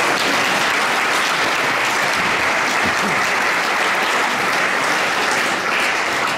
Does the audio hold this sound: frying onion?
no